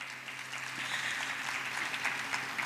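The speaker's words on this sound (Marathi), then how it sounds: "टाळ्या वाजवा." An audience at a school annual concert applauds, a fairly soft, even wash of many clapping hands that swells slightly after the opening and holds steady throughout.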